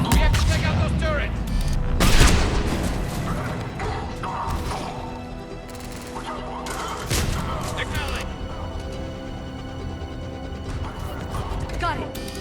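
Chaotic firefight in Mass Effect 3 on Sur'Kesh: bursts of gunfire from turrets and weapons, sharp crashes and heavy thuds, loud and close, with a voice calling out over the battle.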